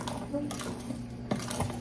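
Italian cream cake batter stirred in a bowl, soft close scraping with a few light clinks of utensil against the bowl, faint and brief, with talk partly over it.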